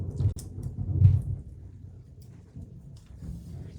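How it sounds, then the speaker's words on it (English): A deep rumble of thunder in a storm rolls low and steady, with a stronger swell early on before it fades slowly and stays continuous in the background. "Ooh, did you hear that thunder?"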